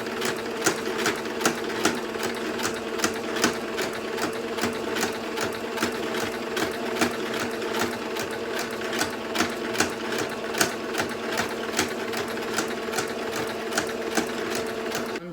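Sewing machine stitching down a fabric flap on a homemade face mask, a steady rapid mechanical whir with regular ticking stitch beats, close and loud with no talk.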